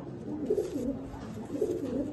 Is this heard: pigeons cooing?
yes